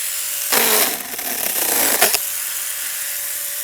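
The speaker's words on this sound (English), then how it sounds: "there you can see it stalled out a little bit." STIHL GTA 26 battery pruning saw cutting wood, a loud buzzing cut that bogs and dips midway as the motor stalls, then cuts off abruptly, leaving a faint steady hum.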